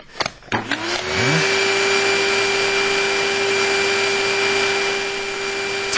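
Vacuum cleaner sucking up dust as a radio drama sound effect: a few knocks and clatters, then the motor spins up and settles into a loud, steady whirring roar that holds to the end.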